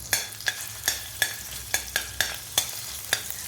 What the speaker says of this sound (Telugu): బాండీ పెట్టుకుని నూనె వేసుకొని అందులో ముందు అల్లం వేసి వేయించుకోవాలి